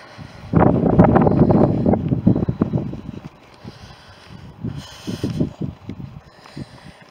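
Cool wind blowing on a countryside walk, heard as loud gusty rumble buffeting the microphone at first and then easing to softer gusts, with faint voices here and there.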